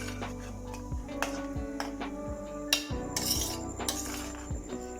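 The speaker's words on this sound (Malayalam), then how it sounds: "ഇളക്കി കൊടുക്കാം." A spoon stirring banana stew in a metal pan, giving a series of clear, close metallic clinks and scrapes at an irregular pace, with no talk.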